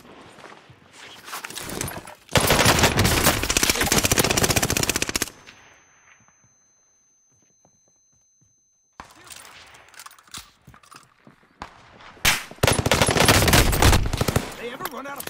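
Warzone video game gunfire: two long bursts of loud, rapid automatic fire on either side of a near-silent lull, with scattered shots and game noise between them.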